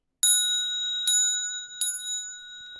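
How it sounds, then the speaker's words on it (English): A bell is struck three times for a Dharma request at a Buddhist lecture, each clear ringing strike followed by a long bright sustain that overlaps the next, close and with no talking. "I'll ring the bell 3 times"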